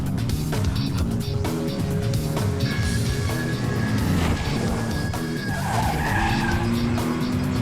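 Cars speeding and skidding through a dubbed Hindi action-movie chase, with a loud, continuous engine roar, screeching tyre squeals and a swelling soundtrack throughout.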